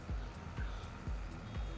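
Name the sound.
truck reversing beeps in Farming Simulator 22 video game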